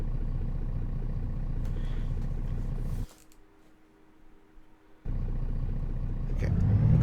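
An Isuzu Erga Mio bus in the OMSI 2 driving simulator pulls away with a steady low engine rumble, which drops out briefly midway and then returns and swells louder toward the end.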